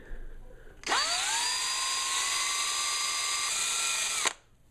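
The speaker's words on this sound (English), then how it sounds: "I just put the drill in reverse, put it on high speed" A power drill running in reverse at high speed spins a polishing wheel against a fishing lure, whirring up and running steadily at a high pitch for a few seconds, close by, then stops.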